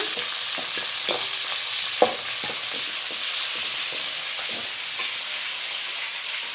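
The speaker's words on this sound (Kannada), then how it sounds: "ಚೆನ್ನಾಗಿ ಮಿಕ್ಸ್ ಮಾಡ್ಕೊಂಬಿಡೋಣ." Bendekayi (okra) sambar sizzles loudly in a hot pan with a constant frying hiss. A spoon scrapes through it in a few close stirring strokes, and no one speaks.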